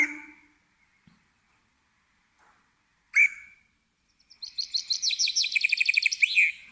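A couple of isolated call notes come first, then a chaffinch bursts into a rapid, bright trilling song that ends with a flourish.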